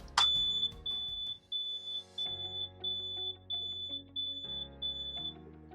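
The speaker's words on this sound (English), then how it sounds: "We were able to implement an alarm to sound at the end of a treatment" A dialysis machine end-of-treatment alarm: a steady series of high electronic beeps repeating at an even pace, about one per second, fairly quiet with a low hum underneath.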